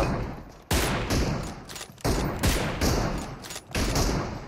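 Gunfire in the mobile battle royale game PUBG Mobile, three loud sustained bursts that each start abruptly and ring out for over a second, close and dominant with no voices.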